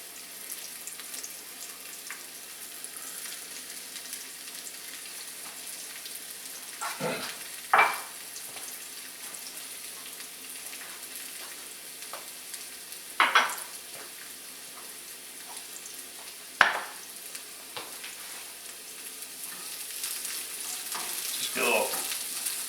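Egg foo yung with sliced scallions searing in a frying pan, a soft steady sizzle underneath with a few sharp scraping clatters of a utensil against the pan at intervals.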